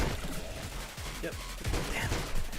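Tank cannon fire in the video game Spider Tanks, several rapid gunfire-like shots in quick succession mixed with game effects, moderately loud with some talk around them.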